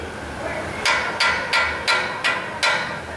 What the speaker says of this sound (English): So we got the brass mallet. We're just gonna give it a few taps.